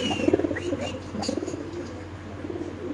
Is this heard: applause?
no